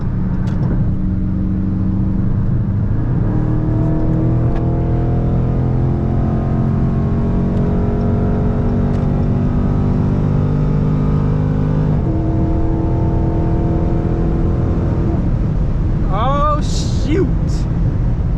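Widebody Dodge Challenger Scat Pack at top speed in GTA 5, a steady loud engine drone held at high revs, with a brief whine near the end.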